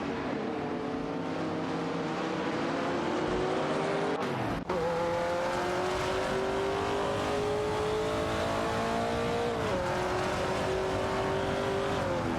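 Race cars in an AI-driven racing video game, including a Plymouth Barracuda Hemi and a De Tomaso Pantera GTS 72, roar continuously with rising engine tones, a brief dip and sharp shift near the middle, then sustained high revs throughout.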